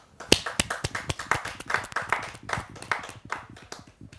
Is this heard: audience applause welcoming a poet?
yes